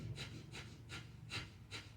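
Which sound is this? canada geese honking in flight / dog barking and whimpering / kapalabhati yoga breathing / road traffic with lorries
kapalabhati yoga breathing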